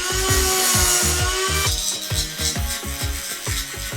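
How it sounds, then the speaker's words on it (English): A Dremel rotary tool grinds down a notch on the motor mount of a Traxxas Rustler RC truck, whining loudly up close in a rapid pulsing rhythm of short repeated passes. "we're gonna have to Dremel that down a little bit to create a smooth surface"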